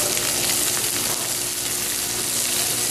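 Fatty local hook-and-line caught fish searing skin-side down in a hot pan, a loud continuous crackling sizzle that stays steady throughout with no talking.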